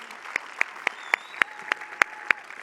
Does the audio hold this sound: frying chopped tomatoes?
no